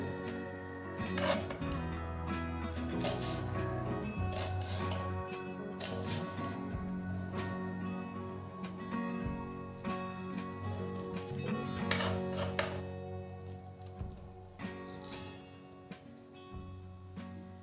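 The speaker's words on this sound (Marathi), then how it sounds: "या आकारात आपण आता मिरच्या कापून घेऊ" A knife slices thick green chillies on a board for lemon-chilli pickle, giving repeated crisp chopping taps and scraping clinks in an irregular rhythm, close and moderately loud over a steady tonal background hum.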